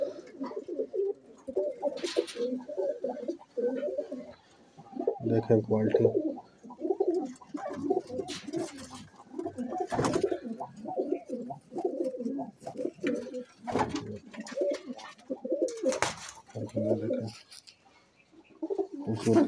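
Teddy Golden Kamghar pigeons perched on a ledge in a Lahore loft coo repeatedly at close range, their low throaty calls running throughout while someone talks over them.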